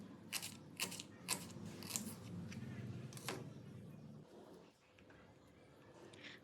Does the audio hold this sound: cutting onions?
yes